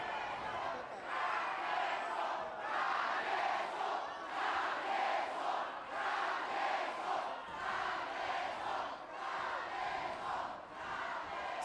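Boxing arena crowd at Jorge Arce vs. Angky Angkota, a WBO super flyweight bout, roaring in support of Arce; a dense, pulsing chant of many voices rising and falling in steady waves, with commentary over it.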